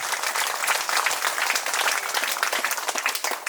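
Audience at a silver jubilee church parish celebration in Kalapahar, North and Middle Andaman, applauding to welcome the sisters; dense, steady clapping from a crowd, loud and continuous throughout.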